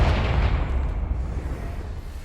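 The Confringo blasting spell in Hogwarts Legacy lands as a deep, rumbling explosion, a loud low boom that rolls on and slowly decays with no break.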